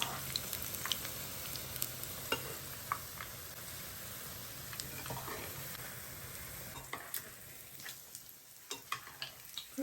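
Steady crackling sizzle of fenugreek-leaf fritters, spooned into hot oil over low gas, frying continuously and close, with occasional sharper pops and light scraping clicks throughout.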